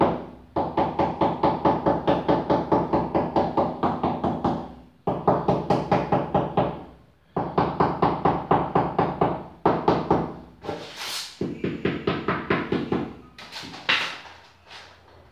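Repeated firm knocks on newly laid floor tile set in AC1 mortar over an existing floor, close and loud, in quick rhythmic bursts separated by short pauses.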